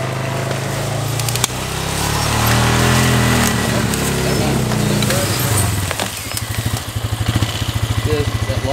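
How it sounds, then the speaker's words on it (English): An ATV four-wheeler engine runs steadily on a mountain trail during an elk hunt in Colorado, its low drone swelling as it climbs closer, then turning to a rough idling chug while a person speaks over it. "I hear Gabe coming up the trail with the four-wheeler"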